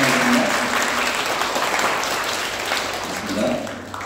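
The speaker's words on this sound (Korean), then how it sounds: "박수" A church congregation at a Sunday worship service in Bali applauds, dense sustained clapping that starts loud and slowly tapers, with some faint voices mixed in beneath it.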